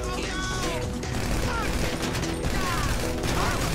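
Gunfire striking a tanker during a GTA 5 heist, a dense, continuous clatter of shots and metallic impacts running throughout under game noise.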